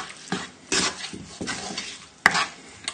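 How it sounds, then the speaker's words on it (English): Salt gets stirred into lentils in a pot, a few soft scraping spoon strokes and one sharper clink against the side, close and fairly quiet. "just give that a little mix in"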